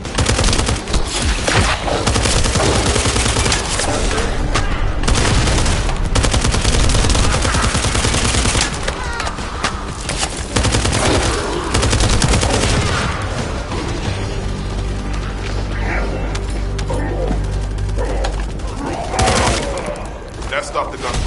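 Dense, sustained bursts of rapid gunfire and explosions in the video game The First Descendant fill the scene, loud and continuous, with a softer stretch of fire toward the end.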